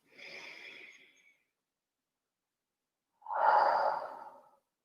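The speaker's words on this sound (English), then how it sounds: "breathing in through your nose" Two slow breaths drawn in through the nose during a guided relaxation exercise, one softer and one fuller and louder, separated by a couple of seconds of quiet.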